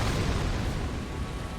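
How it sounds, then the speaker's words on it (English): A broad, rumbling explosion in the video game Elden Ring, a loud sustained roar of noise filling the short stretch with no clear attack, fading only slightly toward the end. "Oh, explosion."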